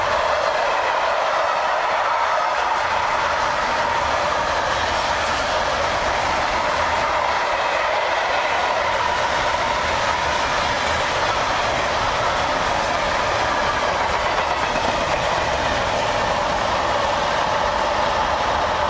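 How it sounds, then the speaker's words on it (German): Freight train passing close by on a German line bound for Karlsruhe, a loud steady rumble and roar of wagons rolling past continuously for the whole stretch, no voices. "Und dieser Güterzug fährt jetzt nach Karlsruhe."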